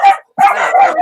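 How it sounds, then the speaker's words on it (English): Dogs bark loudly and close, two sharp overlapping yapping bursts separated by a brief pause. "She's got all the dogs barking."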